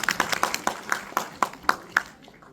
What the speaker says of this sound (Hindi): तो एक बार आप लोगों के लिए जोरदार तालियां।